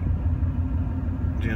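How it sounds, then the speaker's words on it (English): A 2016 Ford Mustang engine idling nearby, a steady low rumble with an even, continuous tone throughout and a brief higher sound near the end. "Car's already started running. 2016 Mustang."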